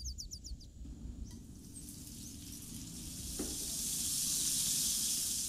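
Margarine in a frying pan starts to sizzle, the hiss building gradually and growing louder toward the end, after a few faint clicks and a quiet moment.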